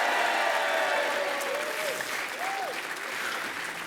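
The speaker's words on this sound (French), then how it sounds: "On l'applaudit très très très fort" A TV game show studio audience, on Les 12 Coups de Midi, applauds a departing contestant: dense, loud, steady clapping from the whole crowd that carries on throughout, with a few faint whistle-like tones above it.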